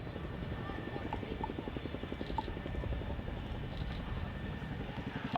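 Chinook helicopter hovering at the RAF Cosford air show: steady rhythmic rotor thudding, moderately distant, continuous throughout with a faint voice over it.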